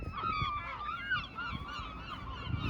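Seabirds cry over Dublin Bay at low tide, a steady run of honking, plaintive calls carrying across open shore under wind noise.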